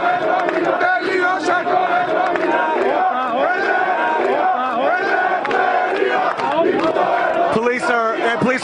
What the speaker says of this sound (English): They're chanting and clapping, and they're asking them to leave the square.